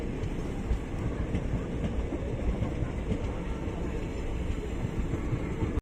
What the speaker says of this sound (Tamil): ஸோ காய்ஸ் இப்போது வந்து இருக்கு ட்ரெயின்